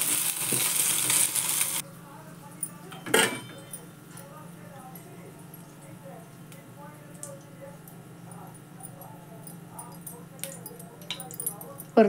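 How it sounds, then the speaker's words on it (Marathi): Cubes of paneer frying in a pan for chilli paneer, with a soft steady sizzle and occasional clinks of a spatula against the pan, joined by someone talking over the cooking. "हे असं फ्राय करून घेतले"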